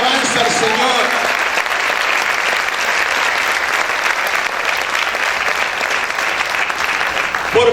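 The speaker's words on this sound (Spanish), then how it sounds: "¿Cuántos pueden aplaudir fuerte al Señor?" A church congregation applauds loudly and continuously in praise, a dense, steady wash of clapping from many hands that fills the room for the whole stretch without letting up.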